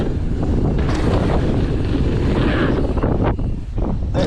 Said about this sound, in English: I'm just hoping that the wind is going to die down so we can hit some of the bigger features.